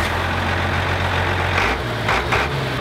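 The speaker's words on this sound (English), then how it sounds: "That diesel engine is just purring away." An old diesel truck with mechanical fuel injection idles steadily after starting, a loud, low, continuous rumble with a rhythmic clatter and a few brief revs near the end.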